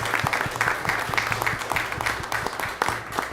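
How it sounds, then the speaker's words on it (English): An audience at a city council meeting applauds the new youth advisory council, with dense, steady clapping at moderate loudness throughout. "A huge round of applause for our new Youthland Youth Advisory Council"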